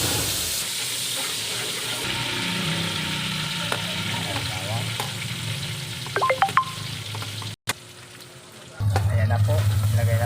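Butter and a little oil heating in a pan for goat kaldereta make a continuous close sizzling hiss, with a few brief clinks and a short voice partway through before the frying grows louder near the end.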